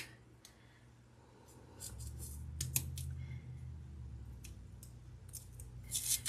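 Scissors cutting around a paper craft piece for a fake bake nutty buddy bar, a series of close, crisp snips spread across the clip with soft handling noise between, no talk.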